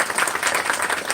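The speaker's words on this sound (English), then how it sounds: "Let's clap for him." An audience at a lawyers' conference claps steadily for a speaker, dense and sustained applause filling the room with no voice on top.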